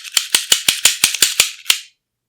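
Sharp metallic clicks and snaps from a Raven MP-25 pistol's parts being pushed and locked into place, about nine quick close-up snaps in an uneven rhythm, then silence.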